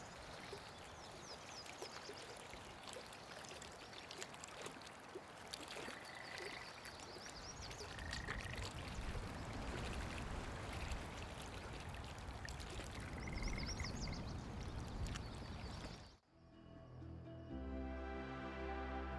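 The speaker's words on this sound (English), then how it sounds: "For lake ambience, as well as gentle lapping, I added randomized one-shots of frogs and insects around the shoreline" Lakeside ambience from the video game Nightingale: frogs croaking and insects chirring along a shoreline over gentle water lapping, steady and soft, with scattered calls near and far, cut off by a short musical passage at the end.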